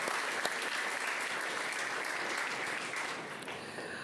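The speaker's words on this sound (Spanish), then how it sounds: "Si lo crees, dale palmas al Rey, por favor. Apláudele a Dios." A church congregation applauds steadily for several seconds, dense continuous clapping from many hands filling the room, easing slightly toward the end with no talking.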